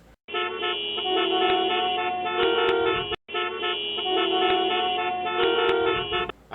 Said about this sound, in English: one person will start honking the horn in anger.